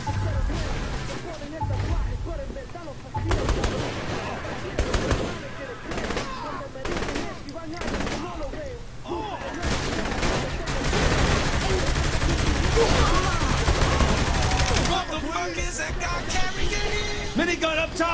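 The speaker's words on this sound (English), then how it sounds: "Minigun up top!" A minigun fires in Saints Row 3 amid dense, continuous gunfire and explosions, the rapid bursts loud and sustained under shouting voices from the game.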